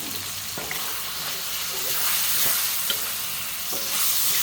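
Chicken liver sizzles and fries in a pan for chop suey, a loud steady hiss broken by occasional clacks of stirring.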